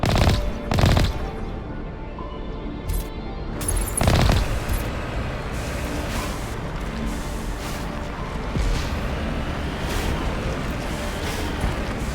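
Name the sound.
gunfire in video game Mass Effect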